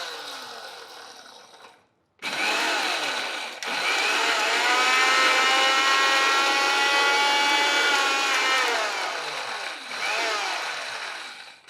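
Kitchen mixer grinder whirring loudly while grinding black gram chutney with a tempering of chillies in the jar, in several close bursts separated by brief pauses, with no talking.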